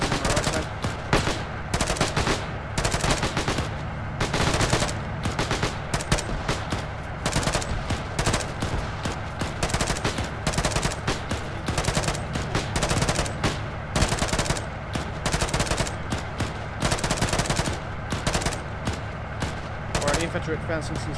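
Sustained automatic gunfire rattles through a combat scene in the video game Arma 3, dense rapid bursts running nearly nonstop at close range, with speech mixed in underneath.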